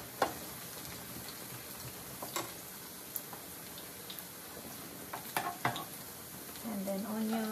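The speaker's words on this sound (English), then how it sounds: "gisa natin yung garlic" Garlic sautés in a pan outdoors with a constant sizzle, broken by sharp ticks and utensil scrapes. A brief tonal sound appears near the end.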